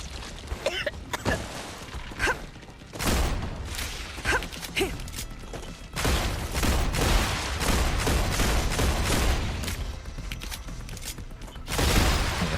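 Bursts of automatic gunfire from a machine gun in the sci-fi game StarRupture, several loud rapid volleys separated by short pauses, with sustained firing over the last half and no talking.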